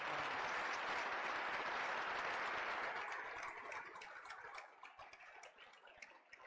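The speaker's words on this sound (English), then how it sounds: "Let's give them a round of applause." An audience claps in a loud, dense burst that fades over several seconds into scattered, sparser claps.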